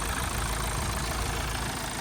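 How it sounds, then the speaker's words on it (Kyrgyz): A Kia K5 car engine idles steadily close by, a continuous even low rumble with no talking over it. "Мотордун үнүн угуп турасыздар."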